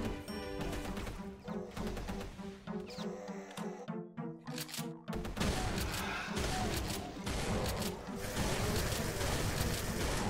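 Gunfire in the video game Brutal Doom 2: rapid, dense bursts of shots and crashing impacts with a short pause midway, loud and chaotic alongside game noise.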